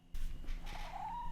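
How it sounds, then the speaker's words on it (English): A house cat lets out a short, drawn-out meow close by, a single plaintive call rising in pitch over faint room background. "I don't know if you guys could hear, but that was my cat."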